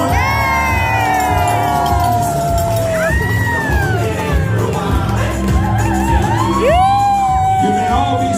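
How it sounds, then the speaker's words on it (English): Lively wedding guests cheer, whoop and shout with rising, sirenlike yells over a constant roar of voices and music, loud and energetic throughout. "Make some noise for Peter, come on"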